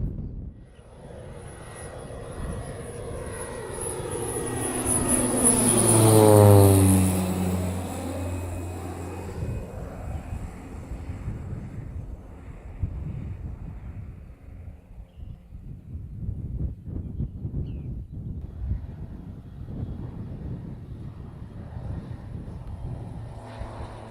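Small propeller plane flying past at about 150 feet over a wildlife refuge marsh, its engine drone rising to a loud peak with a sweeping pitch drop, then fading into wind rumble.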